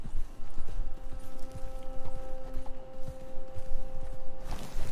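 Steady video game hoofbeats clip-clop through the whole stretch, a horse walking at an even pace over a low ambient hum, no talking.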